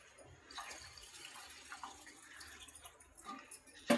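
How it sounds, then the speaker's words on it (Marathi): Water poured into a cooking pot of rice, a soft, fairly faint trickling and splashing that runs steadily for a few seconds before a louder splash at the end. "पाणी अजून ओतायचं आहे आपल्याला."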